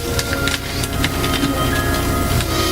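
A screw being driven by hand into a computer case, with a steady grinding, scraping rasp and small metallic ticks, close and continuous over a loud background hum.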